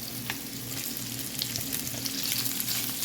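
Rice tossed into a pan with sautéed onion and spam for fried rice fries with a loud, continuous crackling sizzle over a low steady hum.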